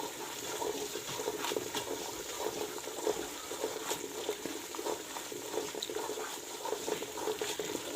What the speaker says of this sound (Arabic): كده هحمر بقى السمسم شويه